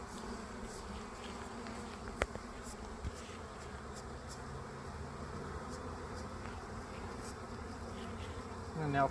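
Steady, dense buzzing of many honeybees close by around a hive frame, continuous throughout with a couple of faint knocks partway through.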